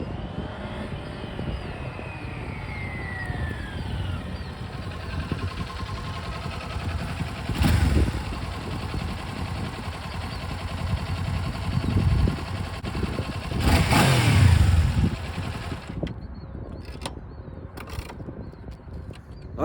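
A 2022 Kawasaki Ninja 400 motorcycle engine runs with a steady droning idle, rising twice into louder revving surges before settling back down.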